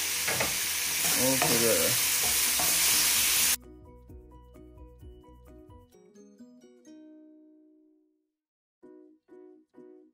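Tomatoes, ginger and garlic sizzle loudly in a pan for pinakbet, with stirring, for a few seconds before the frying gives way to music; a voice speaks briefly.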